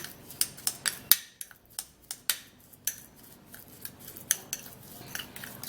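A spoon stirs a mashed plantain and baking soda mixture in a bowl, giving quiet, irregular clinks and scrapes of utensil against the dish, with a few sharper taps spaced through the stirring.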